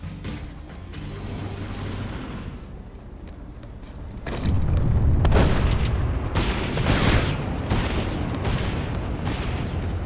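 Vehicle crash and explosion in PlanetSide 2, a heavy booming burst after about four seconds over a constant roar of battle noise and distant gunfire, sustained and loud to the end of the clip.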